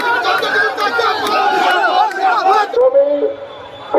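A crowd at a BJP tribal wing march on the Raj Bhavan chants slogans together, a loud, close, rhythmic mass of voices that fades out near the end.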